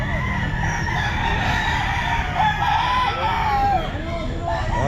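A rooster crows amid a busy outdoor pet market on a Sunday, its rising, wavering call cutting through the steady crowd murmur, with other fowl clucking nearby.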